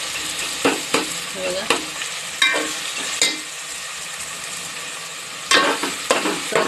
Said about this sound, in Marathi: शिजवलेलं चिकन टाकूया आपण